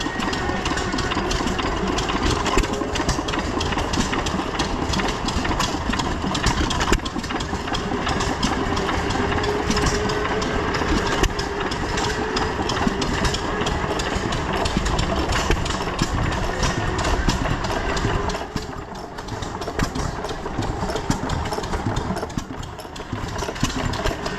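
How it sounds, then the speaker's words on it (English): Antique International Mogul gas engines run on display at a county fair, a steady, dense chugging and knocking rumble that goes on without a break, close and loud. "these are pretty sweet running engines, really. International moguls."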